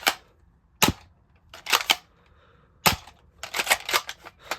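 A Nerf Commander RD-6 blaster firing foam darts, sharp close snapping shots spaced unevenly, some single and some in quick clusters, with quiet gaps between.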